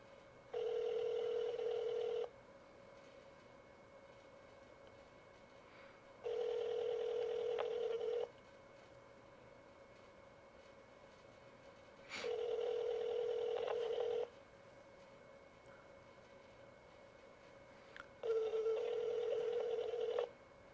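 Four steady tones of a telephone ringing on an outgoing call to the next caller, each lasting about two seconds with gaps between, fairly faint and with no talk over them.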